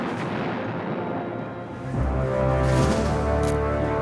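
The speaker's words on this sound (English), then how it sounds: "one of the largest artillery weapons used by the United States military has been the 105 and" 155 millimeter mobile artillery gun of the United States military firing, a heavy deep boom swelling midway into a rumbling roar, loud and close with no voices.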